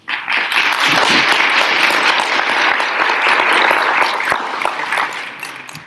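Loud audience applause at a town council candidate forum, a dense wash of many hands clapping that holds steady for about five seconds before tapering off.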